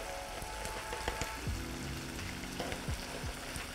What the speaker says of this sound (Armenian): Երբ տապակվեն այս լավաշները, շատ հետաքրքիր եւ համեղ համ են ունենում